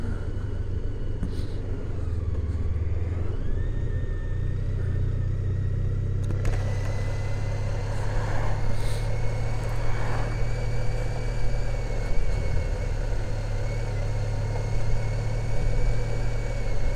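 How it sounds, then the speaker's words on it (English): A Honda ST1300 Pan European motorcycle's 4-cylinder 1236cc engine hums steadily while riding at low road speed, a continuous low rumble with wind noise, no talking. "I do like the sound of the engine on this."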